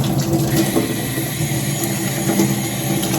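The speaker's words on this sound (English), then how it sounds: "We'll wash my hands again." Steady tap water runs while hands are washed in a home kitchen during Jamaican oxtail preparation, a continuous close splashing hiss with no pauses and no talk.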